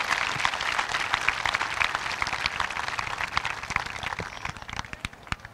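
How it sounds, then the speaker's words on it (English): Applause from the audience at a high school commencement, honoring the graduating students and their parents: a fairly soft, crackling crowd clapping heard from a distance that thins out gradually toward the end. "Let's give these group of students and their parents a huge round of applause for the"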